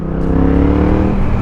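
Yamaha XSR 700 with a twin engine shared with the MT-07 and an Akrapovic Titan scrambler exhaust, revving loudly and close with a deep, steady growl that holds through the whole short burst.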